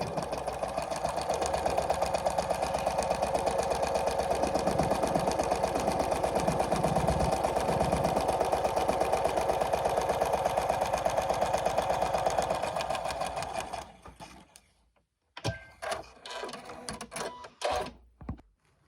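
A sewing machine stitches through paper-pieced fabric in a steady, fast, continuous whirr for about thirteen seconds, then stops; a few brief handling clicks and knocks follow.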